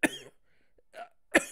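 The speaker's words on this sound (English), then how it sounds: "Sorry about the cough." A person coughs, one sharp cough at the start and another about a second later, close and clear against near silence.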